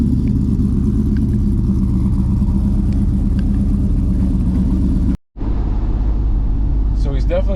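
Inside a Chevrolet Camaro with a manual transmission, a heavy, steady engine rumble fills the cabin, cuts out briefly, then resumes as driving continues, with voices at the end.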